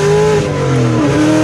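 A 600 horsepower cammed Terminator Cobra accelerates at full throttle, its engine roaring loud and close with a rising, rough tone that cuts off abruptly at the end.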